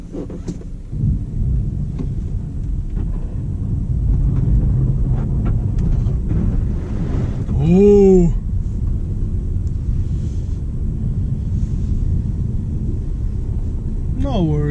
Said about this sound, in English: Found some snow to test out the Audi's four-wheel drive system.